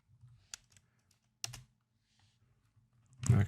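A few sparse, quiet computer keyboard keystrokes are tapped in short clusters while entering a formula in a Godot game editor, followed by a louder thump at the end.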